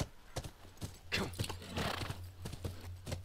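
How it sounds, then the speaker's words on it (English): A horse in The Last of Us video game clip-clops along with rapid hoof beats and lets out a neigh midway, close and loud over game ambience. "Get off the horse."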